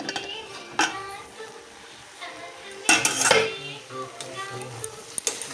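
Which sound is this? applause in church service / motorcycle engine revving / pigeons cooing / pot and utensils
pot and utensils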